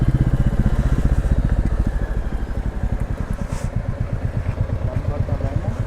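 A heavy motorcycle climbs slowly onto a bridge in low gear, its engine a loud, rapid, steady putter with rough clattering pulses, close by, with a voice briefly heard over it.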